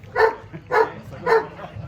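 Three evenly spaced barks from a dog at a dog show, fairly close and loud, with a low murmur of background noise between them.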